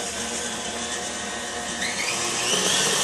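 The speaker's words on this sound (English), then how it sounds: "So that's mixing in the blender." A blender mixes pineapple juice with a steady high-pitched motor whine that grows slightly louder and rougher toward the end, close by and without speech.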